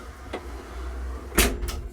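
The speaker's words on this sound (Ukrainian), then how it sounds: "Досить широко відкриваються дверцята" A DT-Z 5404K tractor's cab door opens with a sharp latch click and creak, a fainter click before it and another after, over a low idling engine hum.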